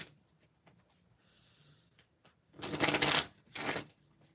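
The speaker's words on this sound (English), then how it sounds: "Hold on, I gotta shuffle again." Tarot cards being shuffled by hand, two brisk riffling bursts close up, the first longer and louder, after a quiet stretch with faint handling noise.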